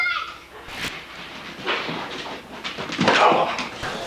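A protective dog attacks a stranger, snarling and whimpering in bursts amid scuffling, with voices shouting over the commotion.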